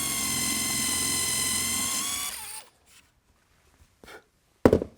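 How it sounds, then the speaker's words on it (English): A power drill drilling a pilot hole in wood for a beehive whines steadily for about two seconds, winds down, then a few faint knocks and a short loud clunk close by. "So now I'm drilling the pilot hole."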